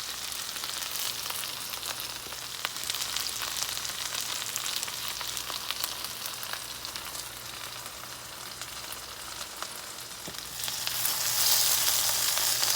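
Okra pan-frying gives a continuous, even sizzle up close for about thirteen seconds, growing slightly louder toward the end.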